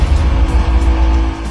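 Steady, loud engine drone of a nearby motorbike running continuously, a low rumble with no voices over it.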